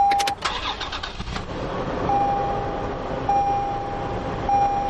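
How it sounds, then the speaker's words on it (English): A 2020 Toyota 4Runner TRD Off-Road starts with the ignition key: a brief cranking burst, then the engine catches and settles into a steady, close idle with a faint chime repeating above it. "all you've got to do is put the key inside the ignition and twist to start"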